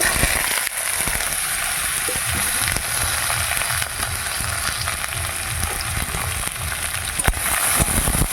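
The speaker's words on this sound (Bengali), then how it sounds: "এবার আমি দিয়ে দিচ্ছি কুচিয়ে রাখা আলু আর উচ্ছে" Chopped potato and bitter gourd sizzle steadily in hot oil with five-spice seeds, a continuous loud hiss and crackle with faint stirring and no talk.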